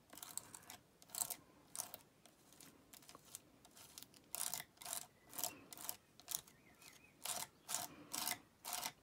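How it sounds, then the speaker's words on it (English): Excess paste is scraped off a stencil on a card in rhythmic, rasping strokes, about a dozen quiet, close scrapes with short pauses between them. "scraping off what's on the stencil itself and hasn't gone through to the card"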